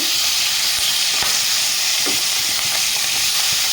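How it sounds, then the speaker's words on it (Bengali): Shrimp (prawns) sizzle gently in a frying pan for Bengali chingri malai curry, a close, steady hiss of hot oil with small crackles and occasional stirring touches throughout. "খুব একটা কড়া করে ভাজবো না হতে দেবো হালকা হালকা করে একটু ভেজে নেব"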